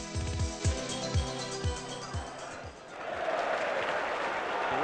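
A football crowd at a 1990-91 Chelsea match, with a commentator's voice over rhythmic clapping at first that swells into sustained, broad applause and cheering from the stands.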